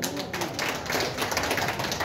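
An audience at a party in Murang'a claps steadily, a dense, continuous patter of many hands that stays loud and even from start to finish.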